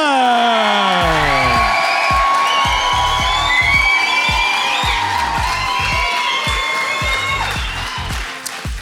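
A crowd at a rugby club event in Bannockburn, Scotland, cheers, whoops and applauds loudly, with rhythmic shouts and claps repeating through the whole stretch and voices yelling over the noise before it eases slightly at the end.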